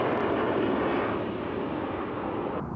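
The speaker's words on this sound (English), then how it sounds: "Airplanes. I'm at the airport." Airplane engines roar steadily at an airport, a loud, continuous broadband rumble that holds throughout and drops slightly near the end.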